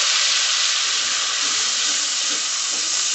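Grated tomato dropped into hot oil sizzles in a loud, steady, close hiss that holds evenly from start to finish with no voices.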